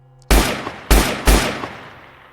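Three loud gunshots, the first two close together and the third following soon after, each with a sharp crack and a short echoing tail.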